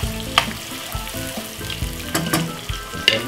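White and spring onions sauté in a hot pot, a loud, steady sizzle broken by sharp scraping stirs and clacks of a utensil against the pot.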